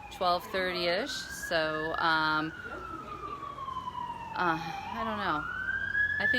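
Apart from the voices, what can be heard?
emergency vehicle siren in the background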